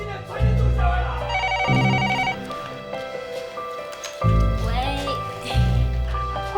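A telephone bell rings in repeated bursts against loud dramatic music from a Taiwanese TV drama scene, with no talk over it.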